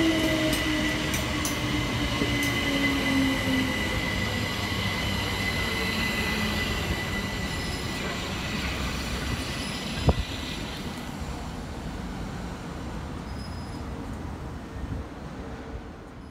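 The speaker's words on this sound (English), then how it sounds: "Arriving next into the station will be 377701, working the 1429 Southern service from Watford Junction through to East Croydon." A Class 377 Southern electric train, unit 377701, arrives at Imperial Wharf station on a Watford Junction to East Croydon service, with a steady rolling rumble and rail hum, one sharp clank near the middle and a high whine fading out.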